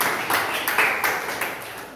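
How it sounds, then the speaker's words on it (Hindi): Students at a school ozone day quiz competition clap together for a correct answer, a dense, rhythmic round of hand claps in a classroom, fairly loud and close, gradually tapering. "इनके लिए ताली बजाओ"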